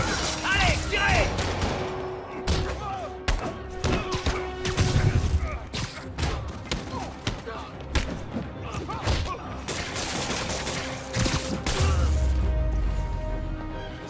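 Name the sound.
gunfire in the Spider-Man PC video game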